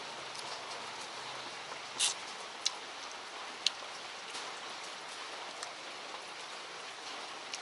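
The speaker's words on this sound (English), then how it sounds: "And the rain is stopped. Well, it's not stopping." Steady rain patters continuously, with a few sharper drips ticking out above the even hiss.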